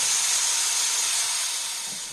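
Steam hisses out in a loud, steady rush, close by, and tapers off slightly toward the end.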